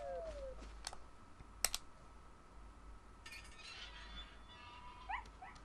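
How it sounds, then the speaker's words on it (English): A dog in the video game Resident Evil 4 gives faint, high whimpers over quiet game ambience, mixed with keyboard-like clicks and a few sharp taps. "Gotta help the doggy."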